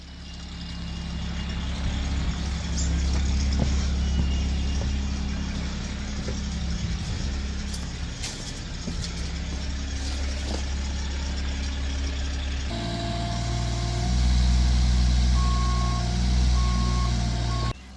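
A digger idles steadily in a home driveway, its mid-pitched engine droning throughout while a reversing alarm beeps in a regular rhythm toward the end.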